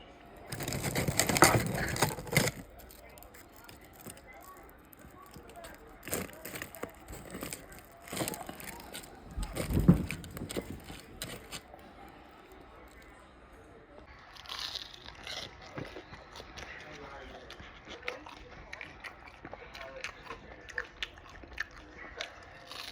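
Crisp, irregular crunching bursts of Pizza Hut food being chewed close up, louder near the start and middle, with quieter rustling and faint sounds between bites.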